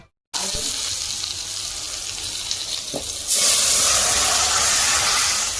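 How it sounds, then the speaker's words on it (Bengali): Eggplant slices frying in oil in a pan, a steady close sizzle that grows louder and brighter in the second half, with no speech. "এদিকে চলছে এখন বেগুন ভাজা"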